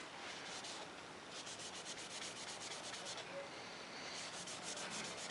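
Steady rubbing and wiping of brake fluid over painted plastic on a Suzuki GS850 motorcycle part, a continuous close scrubbing hiss with faster strokes partway through, no voices.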